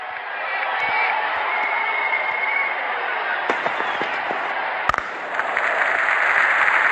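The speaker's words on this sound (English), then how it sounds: "Crowd going mad here." A cricket crowd roars and cheers after a six at a World Cup match, a sustained stadium din with a few sharp bursts and whoops, a commentator's voice running over it.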